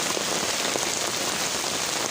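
Heavy rain pours down steadily in a dense, unbroken hiss of drops hitting surfaces, loud and close, with no voices.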